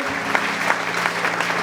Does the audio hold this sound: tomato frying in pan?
no